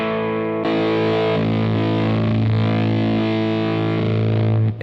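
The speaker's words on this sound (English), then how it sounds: "Now mood 4 gets really into those sort of vintage big muff tones." Heavily fuzzed electric guitar through a Kernom MOHO pedal set to mood 4 for a vintage Big Muff-style tone, a thick sustained chord ringing loudly and alone before cutting off at the end.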